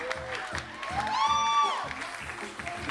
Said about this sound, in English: Give yourself one more big round of applause for coming out to Gibbet Hill.